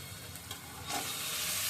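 Chicken is stir-fried with spices in a pan: a low stirring rustle swells into a louder, steady sizzle partway through, close and without speech.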